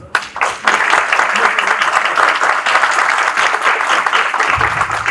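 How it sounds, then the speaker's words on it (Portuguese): Applause from an audience at a debate event in Curitiba, a sustained dense clatter of many hands that stays loud throughout, with a brief murmur of voices near the end. "pedir à mesa aqui que passe uma salva de palmas para vocês"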